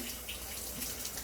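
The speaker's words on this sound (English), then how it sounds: "Wash my hands a little bit." Running tap water splashes into a sink as hands are washed during turkey cooking, a steady close hiss of flowing water lasting about a second, with no voices.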